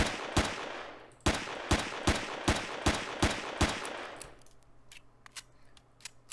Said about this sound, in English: And we do want to take this out with our shitty pistol.